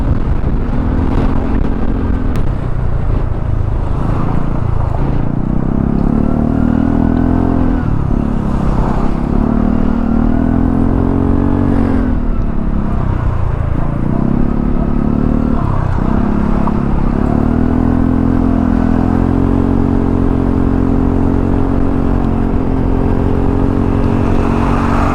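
Aprilia SRGT200 scooter climbing uphill, steady loud engine drone with rising and falling revs and gear-like pitch shifts throughout, heard close from the rider's position with wind noise, no talk.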